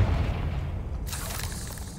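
A deep rumbling boom from the Confringo blasting spell in Hogwarts Legacy, followed by a crackling burst as the explosion lands, loud and close amid game ambience.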